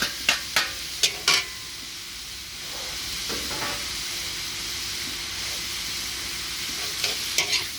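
Rice vermicelli and egg are stirred and fried in a pan: several sharp scraping clanks of the utensil open the clip, then a steady sizzling hiss carries on, with a few more scrapes near the end.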